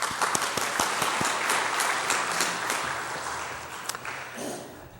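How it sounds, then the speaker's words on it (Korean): A church congregation applauds its choir during a Korean worship service. Many hands clap together in a full, steady wash of applause, with a few sharp nearby claps standing out at the start. It tapers gently toward the end. "성가대도 얼마나 은혜롭게 찬양을 하는지 박수 한번 칠까요?"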